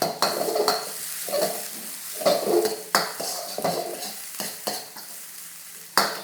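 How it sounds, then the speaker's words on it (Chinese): Chilies and shallots are stir-fried in hot oil in a wok, with a steady sizzle broken by repeated sharp scrapes and clanks of a spatula against the metal, close and fairly loud, with no talking. "加一点油，小辣椒、小葱头一起下"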